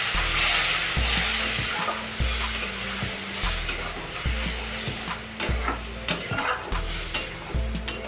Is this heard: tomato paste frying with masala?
yes